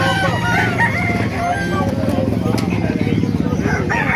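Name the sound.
gamecock rooster crowing at a market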